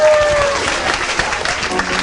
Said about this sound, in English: Can we get another round of applause for Nathan?